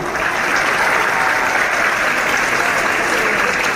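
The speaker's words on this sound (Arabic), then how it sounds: "كل اتبسط من عرض الكوبرا شو يسمعني تحيه عاليه" Circus audience at an American circus applauding loudly after a cobra show, a dense, steady wash of clapping that fills the whole stretch without pause.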